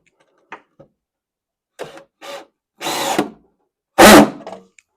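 A quarter-inch power nut driver driving a screw into a wooden dresser while drawer dividers are installed, a few short whirring bursts followed by longer, louder runs, close and alone.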